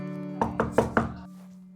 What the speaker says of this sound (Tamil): அடுத்து யாரா கதவை தட்டுறது?